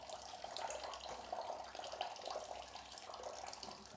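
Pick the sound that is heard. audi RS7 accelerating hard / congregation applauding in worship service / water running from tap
water running from tap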